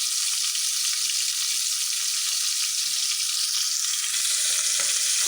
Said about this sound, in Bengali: আজকে দেখি পাতিলে মাছ ভাজাটা কেমন হয়